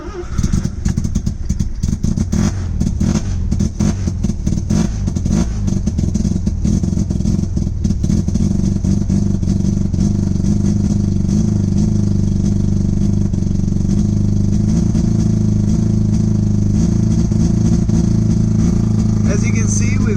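A 1982 Mazda RX7 rotary engine idles steadily and loud at close range, with a constant low drone and light clatter throughout.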